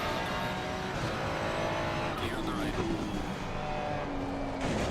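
A Porsche race car in a racing video game roars steadily and loudly throughout, with engine drone and a faint tire whine as it passes close by.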